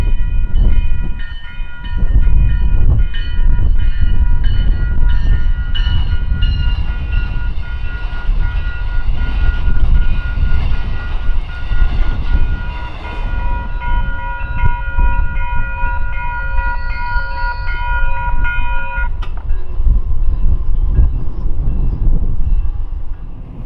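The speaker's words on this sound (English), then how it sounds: "the South Shore 5 o'clock train with the double-decker Metro-looking cars rushed through" South Shore Line double-decker commuter train rushing past in South Side Chicago, a loud, sustained roar of wheels and rail clatter close by, with a sustained horn blast partway through.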